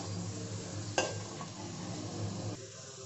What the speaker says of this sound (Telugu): ఇందులో ఇప్పుడు మనం కడిగి శుభ్రంగా చేసి పెట్టుకున్న చికెన్ వేసుకుందాం.